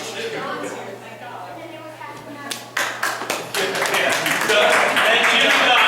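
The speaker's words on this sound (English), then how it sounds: "And Jim and Don is a round of applause." Applause breaks out at a township committee meeting in Middletown, starting as scattered claps and swelling into steady, fairly loud clapping from the room, with talk beneath it at the start.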